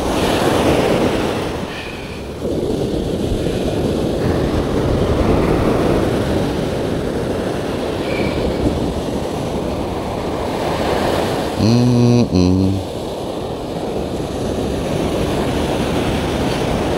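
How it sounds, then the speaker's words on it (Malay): Heavy ocean surf pounds a beach during shore fishing, a loud continuous roar of breaking waves with wind buffeting the microphone and a brief tonal beep partway through. "Berat ombak ni."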